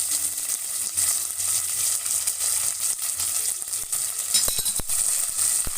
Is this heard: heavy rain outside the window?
no